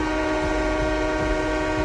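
A train passing close by, loud and continuous, with the steady roar of the cars and a sustained horn tone held throughout.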